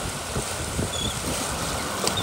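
Steady wind rushing and buffeting the microphone outdoors, a continuous roar with faint whistling tones and no talking.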